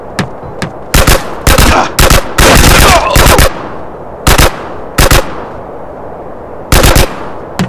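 Video game gunfire from GTA San Andreas rings out in loud, sharp bursts, some rapid automatic strings and some single shots, spread across the clip with short quiet gaps between volleys.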